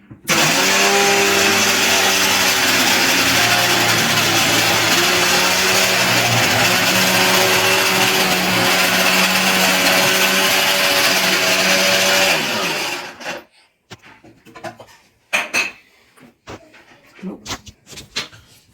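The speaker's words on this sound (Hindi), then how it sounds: "तो इसमें प्याज चॉप कर रही हूँ। इसमें काफी सारी क्वांटिटी एक ही बार में हम चॉप कर लेते हैं।" Electric vegetable chopper runs continuously on a load of onions, a loud, steady whirring buzz for about twelve seconds before cutting off, followed by faint knocks and handling sounds.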